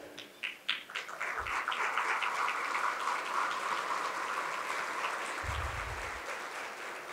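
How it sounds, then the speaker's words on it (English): Audience applause for the mayor, city council members and elected officials standing at a luncheon, a steady wash of many hands clapping that swells quickly and holds evenly throughout, moderately distant in a large room. "A round of applause for them"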